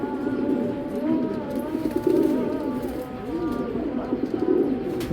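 Racing pigeons in a loft coo steadily at close range, soft repeated throaty calls overlapping with faint background chatter and rustling.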